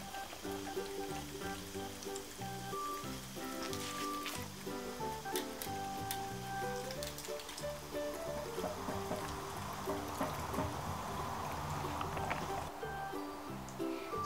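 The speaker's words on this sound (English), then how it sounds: "when I added the baking soda into the vinegar, it produced a lot of bubbles" Baking soda stirred into vinegar fizzes and bubbles steadily for about fourteen seconds, a continuous close sizzling hiss with small crackling pops and a faint tonal hum running underneath.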